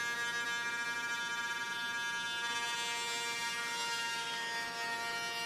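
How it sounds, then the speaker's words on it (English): A router table cutting a Roman ogee profile into wooden kennel pieces, giving a steady, loud, high-pitched whine that holds unbroken throughout. "Then at the router table, I used a Roman ogee bit to cut the shape into each one."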